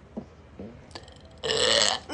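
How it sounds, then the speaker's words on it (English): After a few faint taps and clicks, a single loud, drawn-out human burp erupts up close and holds for most of a second. "there's a burp."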